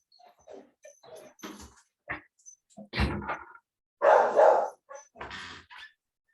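A dog barks loudly several times in quick bursts close by, breaking up steady indoor talk from a person.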